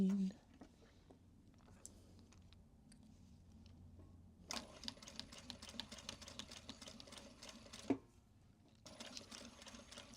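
A sewing machine chain piecing Japanese fabric runs in a steady, close whirring burst with a brief pause and restart, under soft background noise.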